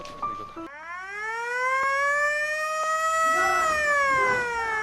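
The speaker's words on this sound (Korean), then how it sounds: "잊고 있던 현재를 알리는 사이렌 소리가 울려 퍼지는" A single siren wails steadily near the military demarcation line between North and South Korea in a film, rising and holding a long, loud tone after a brief burst of other sound at the start.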